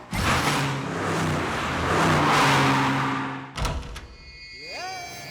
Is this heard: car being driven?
yes